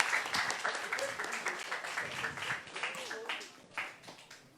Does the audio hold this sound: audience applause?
yes